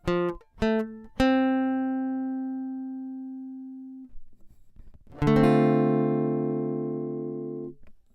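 Guitar chords voiced on the second degree of a major scale, a minor 2 chord: three quick strums in the first second, the last ringing for about three seconds, then a fuller strum near five seconds that sustains and fades, no talk.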